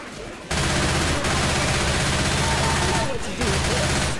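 Dense, continuous video game gunfire, with a rattling barrage sustained at full loudness after a brief quieter opening and a short dip near the end, while voices talk underneath.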